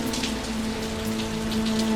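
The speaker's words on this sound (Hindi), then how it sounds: "फसल काटने की बारी आई तो बारिश आ गया।" Steady rain pours onto a surface in an animated farm story, a dense continuous patter with a low hum beneath, loud and unbroken, with no one speaking.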